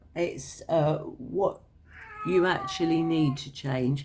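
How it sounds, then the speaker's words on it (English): A pet cat howls with drawn-out, wavering meows, loud and close, overlapping someone talking during a card reading. "I beg your pardon, that's my cat."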